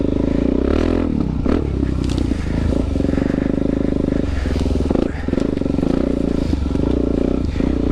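Suzuki DRZ400 dual-sport motorcycle ridden off-road, its engine droning loud and close throughout with rattling, scraping chassis clatter and shifting throttle over rough ground.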